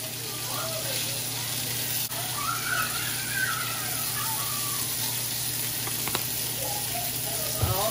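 Oxtails brown in a hot pan with a steady, close sizzle and crackle that runs the whole time, while faint talk sits underneath and a few scrape or stir sounds come through.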